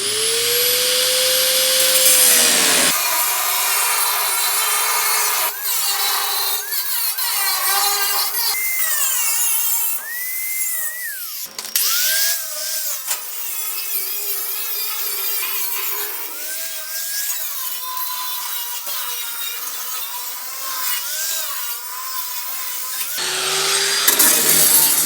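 Power cutting tool slicing through the rusted lower quarter panel of a GTO, a steady loud whine that rises and falls in pitch over about twenty seconds with brief pauses and a short quieter stretch at the start and end.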